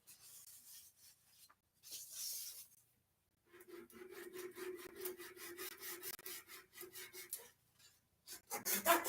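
Rhythmic rasping strokes of sandpaper on a briar pipe, a short burst first, then a steady run of quick back-and-forth rubs at close range, with no talk over it.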